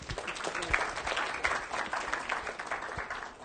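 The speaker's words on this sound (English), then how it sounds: "Thank you, Dimitrios and David, for starting the clap." Audience applause fills a symposium hall at the close of a talk, a steady dense patter of many hands clapping at a moderately loud level with no voices over it.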